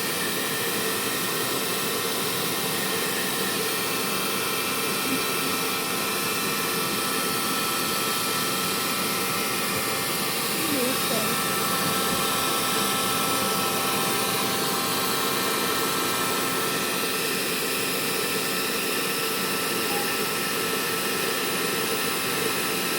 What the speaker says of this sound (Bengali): আর হেয়ার ড্রায়ারের মাধ্যমে গরম বাতাস যাচ্ছে।